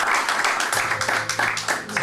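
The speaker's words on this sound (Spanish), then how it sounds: "Démosle un aplauso al Señor" A church congregation applauds in praise of the Lord, a dense, steady patter of many hands clapping together at moderate loudness for about two seconds, with no speech over it.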